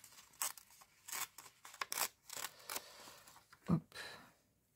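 Fabric or paper being torn at the bottom, a faint series of short rips and rustles close by, ending in one sharper tug, with no talking.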